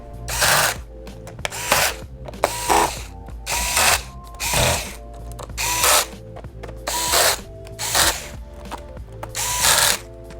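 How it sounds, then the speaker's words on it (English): Screws on the bottom cover of a Dell Chromebook 11 3110 are driven in with a powered screwdriver, giving about nine short, evenly spaced whirring bursts with clicks between them, up close and no speech. "And tighten the bottom cover screws."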